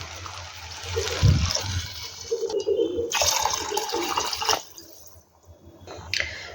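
About two and a quarter cups of water pour onto uncooked basmati rice in a pot, a splashing, gurgling flow that swells and then trails off into a short quiet drip.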